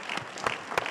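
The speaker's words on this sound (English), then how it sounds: "So let's have a round of applause for both of them." A conference audience at a symposium claps in a brief burst of steady applause, a dense patter of hands with a few louder claps standing out.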